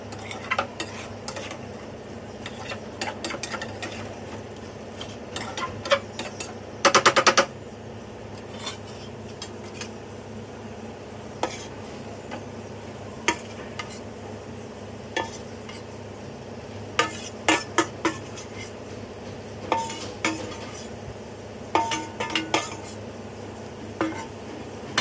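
Potatoes and paneer being mixed in a cooking pan, with scattered clinks and scrapes of a utensil against the metal and a brief louder burst of stirring, over a steady low background hum.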